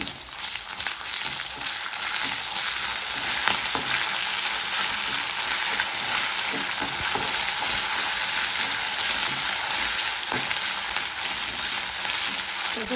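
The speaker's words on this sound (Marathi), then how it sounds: "तो पण छान तेलामध्ये छान परतून घ्यायचं आहे" Ginger garlic paste sautéing in hot oil with cumin seeds in a home kitchen, a loud, dense and steady sizzle close at hand with faint stirring scrapes underneath.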